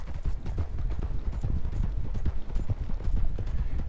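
Horse hooves clip-clop steadily in Red Dead Redemption 2 Online, a quick, even rhythm of muffled thuds heard up close with no talking.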